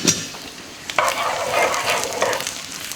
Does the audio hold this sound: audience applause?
no